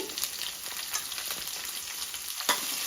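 Crushed garlic and a medium onion frying in oil for raw mango sambar, a loud continuous sizzle with occasional stirring scrapes, close up and alone.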